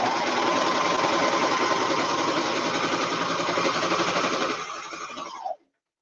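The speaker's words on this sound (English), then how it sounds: "lower my presser foot, and I'm going to start stitching" A sewing machine stitches fabric with a gathering presser foot, joining gathered fabric to a flat piece in one pass. It runs loud and steady at a fast, even whir, then slows and stops near the end, with no talking.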